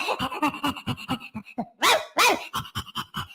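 A dog barks and yips in quick, rhythmic bursts close by, with a few louder, harsher barks in the middle and short panting sounds between them.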